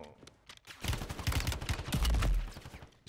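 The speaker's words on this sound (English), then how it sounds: "I'm getting shot from left, right, forward, center, backwards, diagonal." Rapid overlapping gunfire in Warzone on Rebirth Island, including an OG CX-9 submachine gun, crackles in dense bursts and grows heavier and louder toward the end.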